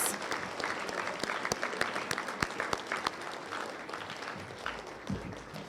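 Applause from an audience of parents and students at a school quarterly awards assembly, heard at a distance and fairly faint, a steady patter of many hands with a few sharper individual claps.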